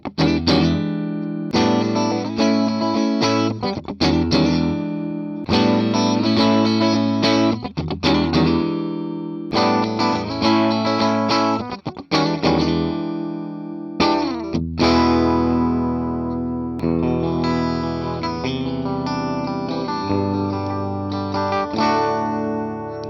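Gibson ES Supreme three-pickup electric guitar played with split pickups through effects, loud chords and picked notes ringing in phrases with brief gaps, then sustained strummed chords in the second half, no talking.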